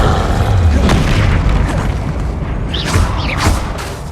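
Booming blasts of the Confringo fire spell in the Hogwarts Legacy video game go off loudly and one after another, with a dense rumbling low end and crackling bursts over a steady roar of combat.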